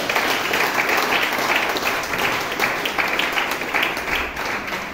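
A church congregation applauds steadily and loudly for the whole stretch, a dense sustained clapping with no speech over it.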